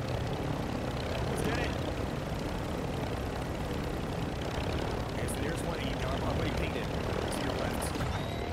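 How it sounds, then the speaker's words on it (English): A helicopter in Call of Duty Warzone drones with a steady, loud rotor and engine roar throughout, with players talking over it. "Yeah, we got the chopper."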